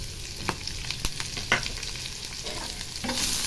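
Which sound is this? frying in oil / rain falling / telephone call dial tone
frying in oil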